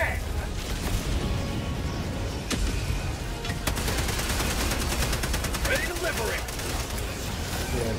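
Rapid gunfire in the game Helldivers 2, bursts of shots crackling through a noisy battle mix, with a fast machine-gun-like stutter in the second half and talk mixed in.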